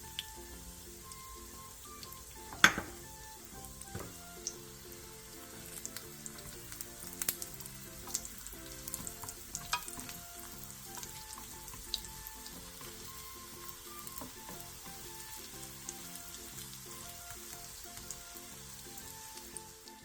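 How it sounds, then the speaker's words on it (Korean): Crab sticks fry in a pan with generous oil over medium-low heat, giving a steady, close sizzle with soft crackles and one sharp pop early on, and no voices. "팬에 기름을 넉넉하게 두른 뒤 게맛살을 올려 중약불에서 앞뒤로"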